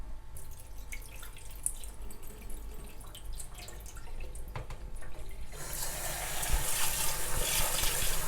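Rice is rinsed with water in an ordinary cooking pot, with soft steady splashing and swishing throughout, growing a little louder and hissier toward the end.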